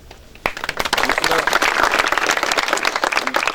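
A crowd at a rural farmers' outreach gathering bursts into loud, continuous clapping after a brief quiet start, the dense applause carrying on with voices mixed in.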